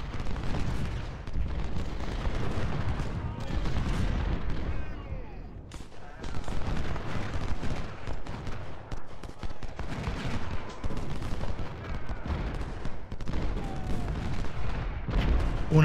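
A Civil War battle in Ultimate General: Civil War, with dense musket volleys and booming artillery that rumble almost continuously, thinning briefly before building back into heavy fire.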